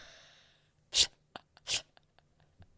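A voice imitates a small cat sneeze: two sharp, breathy bursts close up, separated by soft clicks and snuffles in an otherwise quiet room.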